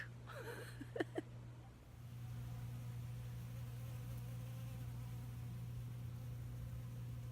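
Honey bees buzz around their hive in a steady low drone that runs the whole way through, with a few sharper nearby buzzes of single bees passing close early on.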